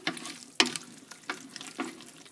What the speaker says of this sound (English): So we'll stir that in.